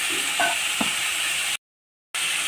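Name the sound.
cumin, bay leaf and green chilli sizzling in a kadai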